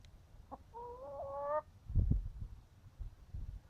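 Noisy pet hen named Leia calling out in a garage, a short rising squawk followed by a harmonic, drawn-out cackling call, then softer low clucks and scratchy thumps nearby.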